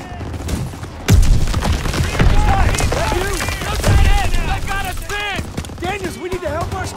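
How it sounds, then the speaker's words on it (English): Bursts of Call of Duty WWII gunfire crack and rattle loudly, with shouting voices layered over the shooting. "Gunfire! You must be near our guys."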